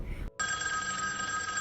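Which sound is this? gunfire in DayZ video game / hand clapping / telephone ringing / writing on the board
telephone ringing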